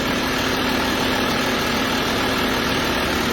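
Audi A6 V6 TDI diesel engine from 2010, held at raised revs during a particulate filter cleaning, giving a loud, steady, continuous drone with a constant low hum throughout.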